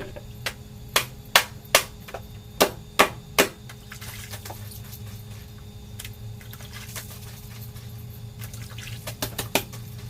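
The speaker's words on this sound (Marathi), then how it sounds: "चला पटकन आता धुणं धुवून घेऊया म्हणजे कपडे" Clothes washed by hand with water, several sharp wet slaps in a quick series followed by quieter sloshing and a fresh cluster of slaps at the end, close by with no speech.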